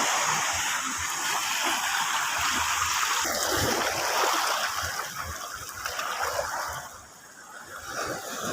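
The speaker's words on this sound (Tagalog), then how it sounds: "Ang lakas ng alon." Strong sea waves surge and wash at Bagbag beach in Sual during shore casting, with chest-deep water churning in a continuous close roar and splashes that swell and ease, briefly dipping before rising again.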